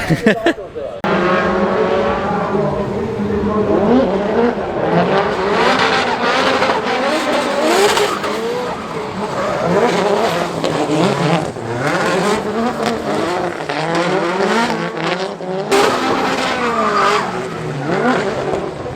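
Cars roar and rev nearby with tires squealing as they drift at a drift world tour event in New Jersey, engine noise continuous and loud, while people talk over it.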